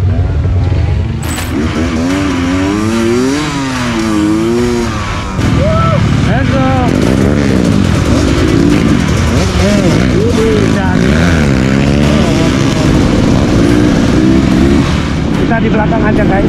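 Two-stroke trail motorcycle ridden on a dirt outing, its engine buzzing loud and close with rising and falling revs over steady wind noise, while riders talk now and then.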